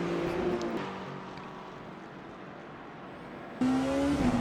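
Race cars in a GT3-class multiclass endurance race in a racing video game, engines droning steadily as cars pass one another, with a sharp, louder rise in engine pitch near the end as another car draws close.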